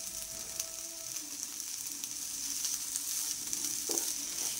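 Drumstick pieces with salt stir-fried and mixed in a pan, giving a steady soft sizzle with light scraping strokes, faint and continuous, with no talking.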